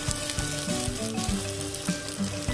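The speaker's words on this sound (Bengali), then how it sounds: "একটা মাঝারি মাপের পেঁয়াজের পাপড়ি দিয়ে এক মিনিট নেড়েচেড়ে নিতে হবে" Onion petals and chopped carrot stir-frying in a pan, a loud continuous sizzle broken by repeated utensil knocks and scrapes as the vegetables are tossed, with no voices.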